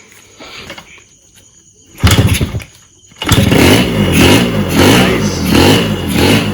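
A Yamaha RXZ motorcycle engine coughs briefly, then catches and starts, settling into a loud, steady two-stroke idle with pulsing revs close by; one voice speaks a single word near the end.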